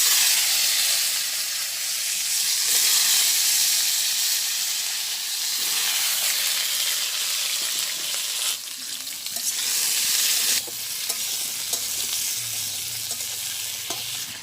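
Green banana pieces sizzle in hot oil in a wok, a steady close frying hiss that continues throughout, with occasional stirring scrapes and soft clinks.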